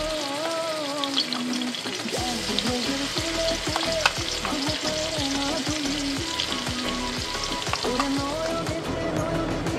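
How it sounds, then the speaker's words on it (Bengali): Ginger, garlic and green chili paste fries in hot ghee, crackling and sizzling steadily up close while a spatula scrapes and stirs in a regular rhythm, with faint background tones and no speech. "এই আদা রসুন লঙ্কার পেস্টটা আমি ভালো করে ভেজে নেব"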